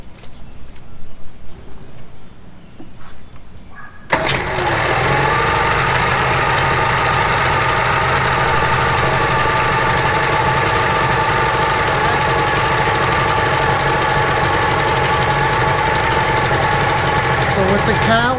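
An engine runs with the cowling on, a steady loud idling drone with a buzzy, knocking texture that starts abruptly after a few seconds of quieter sound and holds evenly to the end.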